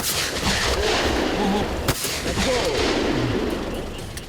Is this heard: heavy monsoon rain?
no